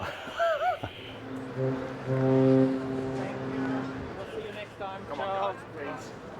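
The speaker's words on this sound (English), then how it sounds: "I'll give a little honk on the horn." A deep, sustained cruise ship horn blast aboard the Regal Princess sounds for a couple of seconds, with people talking and laughing before and after it.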